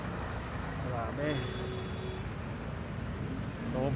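Road traffic on the C6 road heard from a moving motorcycle: a constant low rumble of engines and wind, with a couple of brief nearby vehicle tones and a horn-like whine, while a rider talks.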